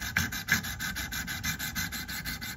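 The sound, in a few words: knife being sharpened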